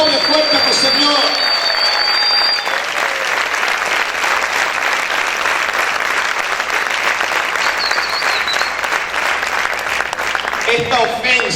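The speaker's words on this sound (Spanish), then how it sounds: "Aplaude fuerte a tu Señor" Loud, sustained applause from a church congregation during a sermon, dense clapping filling nearly twelve seconds at steady intensity, with scattered voices and cheers mixed in.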